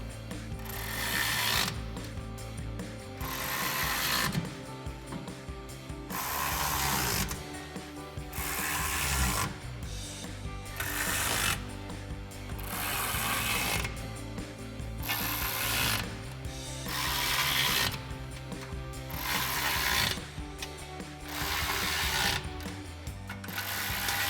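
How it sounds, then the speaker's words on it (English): Ratchet fitted with a 5mm Allen socket tightening the bolts of an adjustable-height bed rack on a 2016-2023 Toyota Tacoma, giving repeated bursts of close, loud pawl clicking with brief pauses between strokes. "So we'll grab our 5mm Allen head socket on our ratchet and a 13mm wrench."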